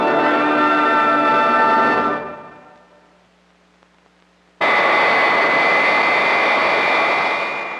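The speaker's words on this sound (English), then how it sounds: "These sounds of our jet age are familiar ones." A jet aircraft engine roars loudly with a whining, tonal drone that fades away to near silence. After a pause, a second loud jet blast cuts in suddenly and holds steady.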